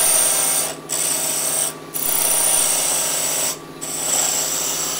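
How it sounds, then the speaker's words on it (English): Wood lathe spinning a bottle stopper blank while a cove tool cuts a hollow, giving a steady close scraping hiss broken by three short pauses as the tool lifts off the wood. "I'm going to use COVE tool."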